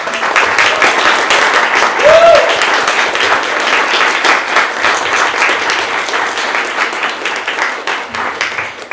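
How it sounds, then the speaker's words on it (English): Steady, full audience applause at a book launch event, a dense wash of clapping from many people sustained for the whole stretch with no break. "Let's do one more round of applause."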